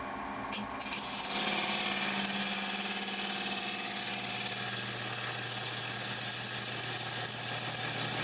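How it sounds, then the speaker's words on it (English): Wood lathe with worn bearings turning a pecan bowl, starting up after a brief click and settling into a steady mechanical hum with a persistent vibrating drone, moderately loud and continuous with no talk. "you might hear a bit of vibration. I believe this might be because the bearings on this lathe are going out."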